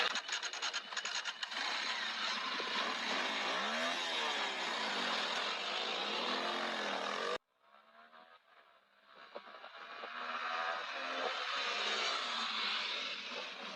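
Small motorcycles, one a 140cc kid's bike, revving loudly in a drag race, a steady near engine roar that cuts out abruptly midway, then rises again as engines accelerate.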